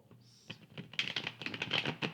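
Tarot cards riffle and slap through a quick run of crisp shuffling, close and fairly quiet, with a brief tonal sound near the start and no voices.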